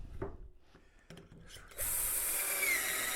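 A power drill boring dowel holes through a Dowelmax Jr doweling jig into wood, starting with a few short taps and clicks, then a loud, steady high-pitched whine running close by for the last second and a half.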